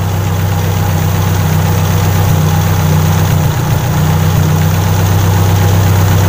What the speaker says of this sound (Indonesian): Jadi harus sambil kita cermati untuk suara mesinnya itu semakin halus atau semakin berebut atau semakin kasar ya.